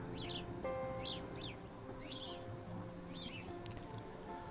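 House sparrows chirp among cardinals in snowy, windy weather, giving a few short, faint chirps over steady wind noise.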